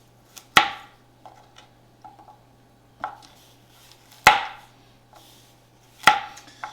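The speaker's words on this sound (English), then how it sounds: "I'm going to cut the ends off and then cut them in half" A knife chops carrots in half on a cutting board, with several sharp, close, loud knocks spaced about a second apart and softer taps between them, and no talking.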